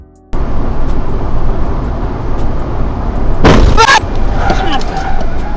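A rear-end collision between a Tiago and a Bolero on an expressway comes as a sudden, loud, crunching impact partway through, set against a steady roar of road and engine noise.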